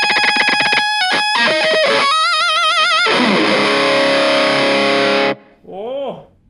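Electric guitar played through a Kokko KH8 high gain distortion pedal, loud and thick, with quick picked notes and chords giving way to a sustained saturated chord that cuts off, followed by a brief wavering tail.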